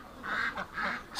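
Two quick, nasal duck quacks sound close by, one after the other within about a second.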